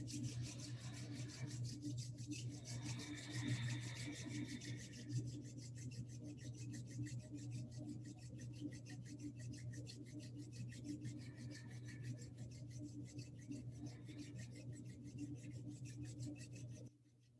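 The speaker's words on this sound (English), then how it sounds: "Let's bring the palms together and rub them together." Palms rubbed together during a Kundalini yoga practice, a steady, soft, close swishing friction that runs continuously for the whole stretch with no talking.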